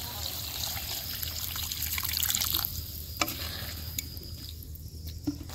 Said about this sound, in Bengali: এখন সবকিছু ঠিকঠাক মতন সিদ্ধ হওয়ার জন্য অল্প পরিমাণে জল দিয়ে দিব।